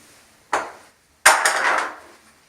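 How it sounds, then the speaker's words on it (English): A hammer strikes a small screwdriver held under a door hinge to drive the pin up and out: two sharp close metallic taps, the second followed by a brief ringing rattle. "we're going to take a small screwdriver and hammer up from the bottom and knock the pin loose."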